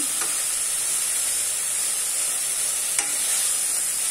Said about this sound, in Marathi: ही मेथी आपल्या कांदा आणि टोमॅटो बरोबर व्यवस्थित मिसळायची